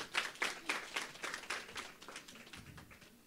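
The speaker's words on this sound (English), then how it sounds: "can we have a round of applause for our ladies up here?" Audience applause for women standing up front at a gathering, a quiet scatter of distinct hand claps that thins out over about three seconds.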